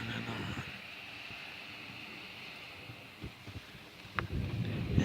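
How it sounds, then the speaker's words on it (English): Strong gusty wind sweeps across a huge open valley, gusting to 40 to 50 miles per hour, a steady broadband roar with rising bursts toward the end and no voices. "that wind is in gusts of 40 to 50 miles per hour sometimes"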